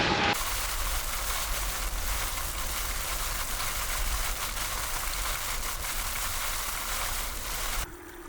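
Heavy rain from Tropical Storm Hilary pours down in Southern California as a steady, even hiss that holds for about eight seconds before cutting off abruptly near the end.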